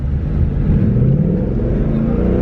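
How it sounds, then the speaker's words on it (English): A 2018 Ford Mustang GT engine rumbles loud and deep from close by, its low growl swelling slightly as the throttle is lightly blipped, with no talk over it. "that's literally just jostling the throttle a tiny little bit. It's very loud, as you can probably tell"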